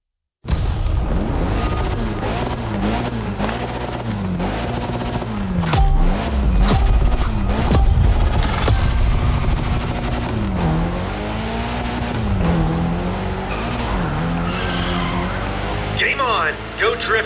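A Mitsubishi Lancer Evolution X drifting in The Crew Motorfest racing game, with its engine revving loudly and tires squealing in long sustained slides that rise and fall, close and continuous throughout.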